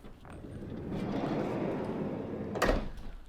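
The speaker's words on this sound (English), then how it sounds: "You've got a side loading door." The side loading door of a 2016 Citroen Relay 2.2 HDi L3H2 van, ply-lined inside, rolls along its track with a rising rumbling slide that ends in a solid thud, fairly close.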